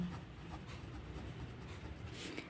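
A pen moves across paper during an English grammar lesson, giving a soft, continuous scratchy rubbing that is faint and close, with no talking over it.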